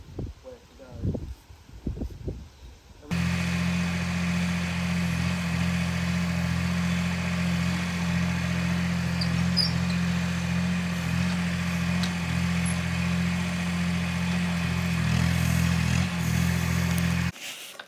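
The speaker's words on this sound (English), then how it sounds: "Apologies if you can hear Dean on the digger outside." A digger works outside a house, its engine a steady low idling rumble that starts abruptly and holds at an even level for about fifteen seconds before cutting off, heard from a moderate distance with brief talk beforehand.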